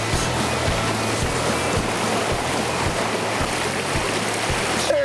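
A small, cold feeder creek in West Virginia brook trout country rushes in a steady, loud, close wash of flowing water, with a faint regular low thump underneath and no voices.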